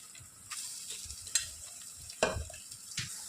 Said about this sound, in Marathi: आता आपण तुपामध्ये छान परतवून घेऊया